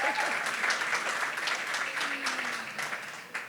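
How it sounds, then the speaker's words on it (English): An audience claps and cheers at a circular economy conference in Brazil, dense steady applause that fades slightly toward the end. "I would like to hear one big applause for her and her team"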